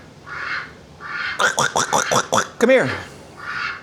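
A pet duck quacks in a quick run of about six nasal calls followed by one longer, louder squawk, close by, with a person's voice calling out briefly between the calls.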